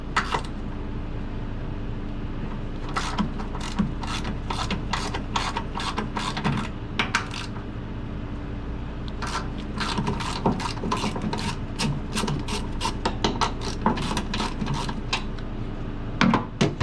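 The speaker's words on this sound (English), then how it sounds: "undo the top bolts and we should be able to drop this right out. So these are 14 mil" Close, rapid ratchet clicking in bursts as a wrench backs off 14 mm strut top bolts on a Honda S2000 during a spring swap, with pauses between runs and a steady background hum.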